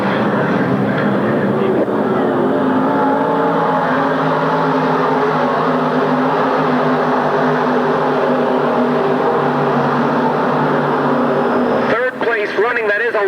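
Small-block stock cars roar around an oval track in a steady, loud engine drone that fills the whole stretch, with an announcer talking over it throughout.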